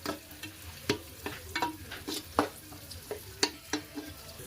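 Onions and ginger stir-fried in a pan for a mutton curry, a spatula scraping and tossing in irregular strokes over a low, steady sizzle, close and alone with no voices.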